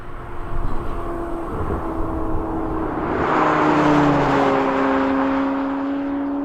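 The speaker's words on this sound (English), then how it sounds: "I go into the corner, and this car is super capable" A McLaren 750S sports car heard from inside as it drives into corners, the engine drone rising and falling with steady whirring tones and road rumble, fairly quiet and without talk.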